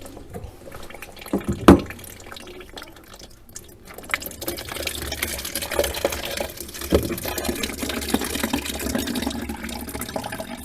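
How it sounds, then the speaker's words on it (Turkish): Water running and trickling out of an opened under-sink tap valve during a leaking-faucet repair, starting with a clunk and then a steady, moderately loud gurgling flow near the microphone, with no talking. "Bu su bir miktar akıp azalacaktır."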